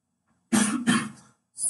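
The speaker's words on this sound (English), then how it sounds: "Sorry for me coughing." A person coughs twice in close succession near the microphone during a Python calculator coding session, loud and harsh, followed by a brief pause and the start of another cough.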